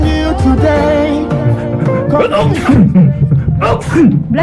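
A loud close sneeze bursts out amid a voice that stretches and gasps, with rising and falling vocal sounds around it on a live radio broadcast.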